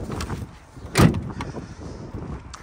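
A GMC Sierra 3500 AT4 tailgate swings shut with a single solid thump partway through, close and fairly loud over a low outdoor background.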